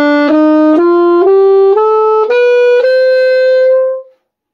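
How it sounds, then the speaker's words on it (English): A saxophone plays a slow ascending melodic minor scale of about seven connected notes, loud and close, ending on a held tone that fades out. "I'm going to play the melodic minor scale ascending"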